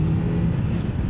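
A 2025 Kawasaki Z900 motorcycle engine revs as the throttle opens, a loud, steady, close drone with a strong low tone that holds evenly throughout.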